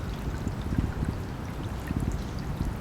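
A 3.5W solar fountain pump pushes water up through its nozzle roughly 16 inches high, making a steady close splashing and pouring rush that continues throughout with no speech.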